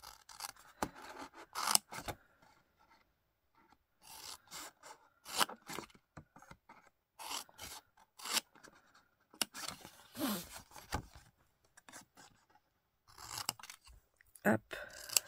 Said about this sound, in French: Et on coupe ce morceau.